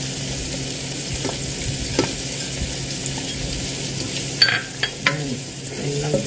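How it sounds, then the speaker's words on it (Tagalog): Mixed vegetables stir-fried in a hot pan, a continuous loud sizzle with a few sharp scraping stirs and clanks near the end. "lagay na po natin ang ating mixed vegetables"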